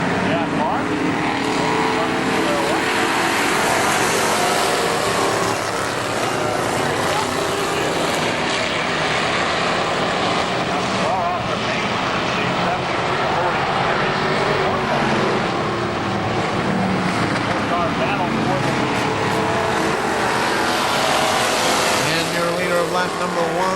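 Race cars roaring around KilKare Speedway as the green flag drops, a dense sustained loud engine roar with an announcer talking over it.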